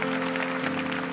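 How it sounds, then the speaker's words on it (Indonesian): A church congregation applauding during a sermon, a dense steady clatter of hands, loud and close, with a sustained tone underneath. "Kita berikan tepuk tangan untuk Roh Kudus."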